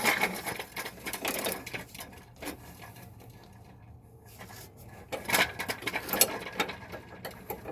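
A 24 millimeter socket on a wrench breaking loose a tight bolt on a 2000 Lincoln Navigator Limited, heard as bursts of ratcheting and mechanical clicking, with a quieter lull in the middle before the clicking resumes.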